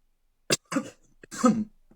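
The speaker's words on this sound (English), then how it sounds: "it was a cough." A few short coughs or throat-clearing bursts, close and fairly quiet, separated by brief pauses.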